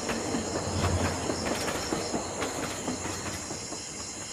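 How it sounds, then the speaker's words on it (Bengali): A train pulling away from a quiet station, its wheels clattering and hissing steadily at moderate distance with no other voices. "হুইসেল বাজিয়ে ট্রেনটি ছেড়ে দিল।"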